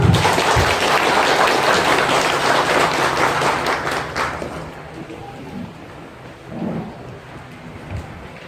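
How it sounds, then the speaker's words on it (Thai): An audience at a Sakon Nakhon amateur radio association gathering applauds the newly backed association president, a loud burst of massed clapping for about four seconds that then thins away into quieter room noise. "ขอเสียงปรบมือครับ"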